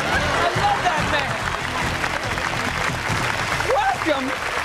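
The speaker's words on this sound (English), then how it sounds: "Keep applauding." A studio audience at a television game show applauding, dense continuous clapping from a crowd with a voice talking over it.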